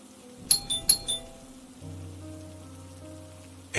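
A doorbell chimes in a quick burst of bright electronic tones, then a low steady hum lingers before a sharp knock or thud at the end.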